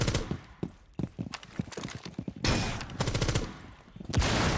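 Gunfire rattles in a console shooter video game, with rapid bursts of close, sharp shots at first, then louder, denser automatic volleys toward the end, and no voices over them.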